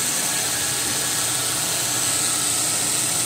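A Toyota Innova engine runs with a steady, even hiss-like roar and no clear change in pitch, constant and fairly loud throughout with no one talking.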